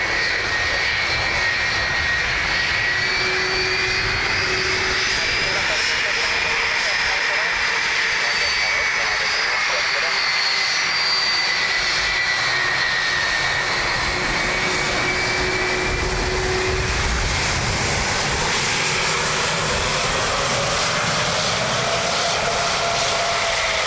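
A plane lands on runway 28L at Dublin Airport, its engines roaring loud and steady for the whole stretch, with a high whine drifting in pitch, while radio voices talk over it.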